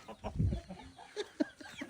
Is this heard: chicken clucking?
yes